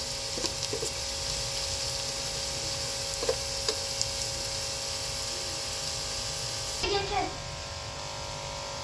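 Onions frying in a pan until brown make a continuous sizzling hiss with scattered small crackles and a brief louder stir near the end.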